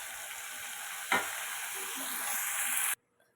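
Dal tipped into a hot pan of tempering with curry leaves and asafoetida for ridge gourd dal sets off a sudden loud sizzle, which settles into steady frying hiss and swells slightly before cutting off abruptly after about three seconds.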